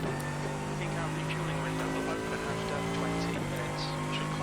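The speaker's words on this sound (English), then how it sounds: "This car is loud though" Loud, steady race car engine in iRacing, a VRS sprint at Brands Hatch, droning close throughout with shifting pitch as it works through corners, a voice talking over it.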